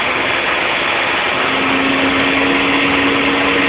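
A car engine held at raised RPM during an ignition test, giving a loud, steady broadband drone with a faint rising tone partway through and no voices.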